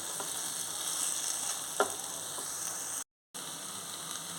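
Drumstick vegetable pieces sizzle in hot oil in a pan for a tomato curry, a steady close crackle with a faint clink from stirring and a brief cut to silence.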